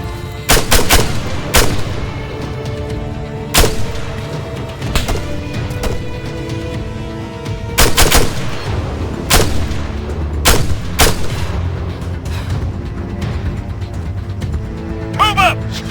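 Sharp, loud gunshots in an Arma 3 firefight against a machine gunner, irregular single cracks and short bursts spread across the stretch with reverberant tails, over a continuous battlefield rumble and shouted voices.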